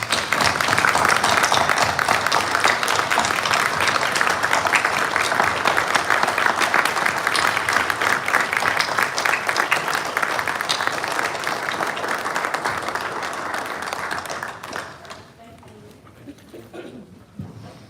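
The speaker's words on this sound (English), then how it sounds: "I'd like to give them all one more big round of applause" An audience at a school board meeting gives a long, loud round of applause: dense, sustained clapping fills the room for about fifteen seconds, then fades to scattered claps and quiet room noise.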